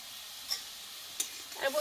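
Eggs go into a hot pan of cooking papaya and boiled dal, giving a faint, steady sizzle with a couple of brief ticks and a soft spatter near the end.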